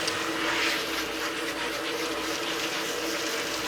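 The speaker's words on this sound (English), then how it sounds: "I'm rinsing the shampoo off of her now" Steady rush of running water rinsing shampoo from a Goldendoodle dog during grooming, a continuous close spray with no voices.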